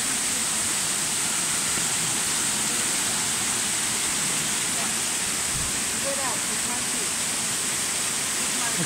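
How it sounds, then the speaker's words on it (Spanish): Water runs steadily down a small cascade on a farm where a spring rises, giving a dense, unbroken rushing hiss close by that holds level throughout. "Aquí vemos cómo se va el agua para abajo."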